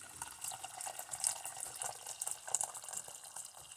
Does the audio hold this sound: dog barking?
no